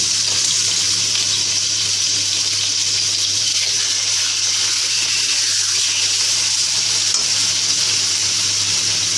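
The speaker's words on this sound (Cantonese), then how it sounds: "咁我哋而家煎佢咯喎，豬扒一定要煎落幾少嘅" Bone-in pork shoulder chops frying in a pan, a steady dense sizzle and crackle filling the whole stretch, close and fairly loud, with no talking.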